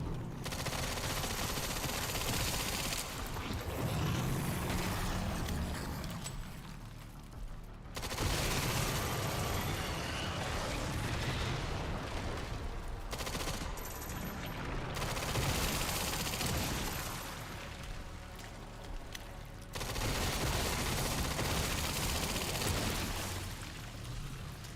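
Sustained rapid gunfire in a Resident Evil video game, loud bursts of fusillade running almost continuously with a couple of brief pauses, dense and booming throughout.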